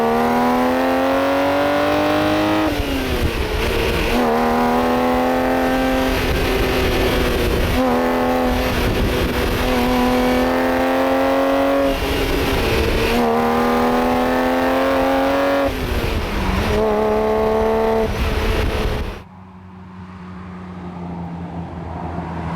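A Ferrari Testarossa drives along a road, its engine loud and close as it pulls through the gears in repeated rising sweeps broken by shift dips. It then cuts to quieter ambient noise.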